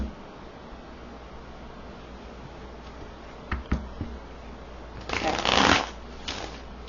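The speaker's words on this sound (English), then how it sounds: "One more shuffle here" Playing cards shuffled by hand, a few quick riffling bursts over faint background hiss, with the loudest riffle near the end.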